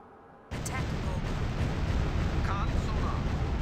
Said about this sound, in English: Sonar, loud explosion on bearing of master 3.